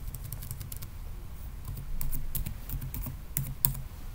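Keys clatter on a computer keyboard in short bursts of close, quiet clicks and taps, with a few louder strokes near the end.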